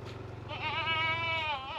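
A goat on a farm gives a single wavering bleat at close range, rising in the middle and trailing off, over a low steady background rumble.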